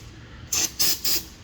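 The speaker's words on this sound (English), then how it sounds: "we'll spray some brake cleaner" Brake cleaner sprayed onto the corroded brake of a 2010 Acura MDX AWD, three short sharp aerosol hisses in quick succession, close and loud against a quiet background.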